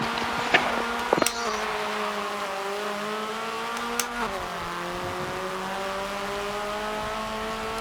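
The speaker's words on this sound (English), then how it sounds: "I'm sitting here revving my engine, testing my sensitivity here." Car engine revving in the racing game Forza Motorsport 4, a steady droning engine tone that holds and shifts pitch, with brief sharp clicks near the start and a faint voice in the background.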